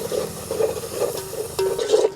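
Ginger garlic paste and turmeric fry in a pan for a Telangana village-style country chicken curry, giving a steady close sizzle broken by repeated scraping stirs, with a louder burst of stirring near the end.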